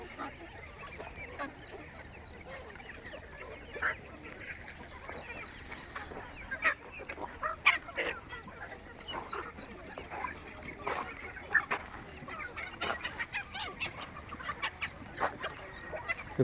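Free-range village chickens and a rooster stir in the morning farmyard, with scattered clucks, squawks and honk-like calls rising irregularly from a steady outdoor background, some near and some farther off.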